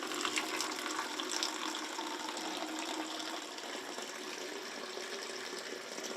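Water pours steadily off the keys of an outdoor piano, a continuous broadband splashing rush at close range with no talking.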